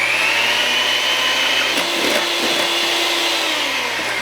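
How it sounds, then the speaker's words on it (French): Electric mixer whipping cream for whipped chantilly, a continuous high motor whine at steady volume with brief scraping knocks as the beaters work, no talking. "Une fois votre mixeur en place, vous commencez à vitesse petite ou moyenne pour incorporer l'air"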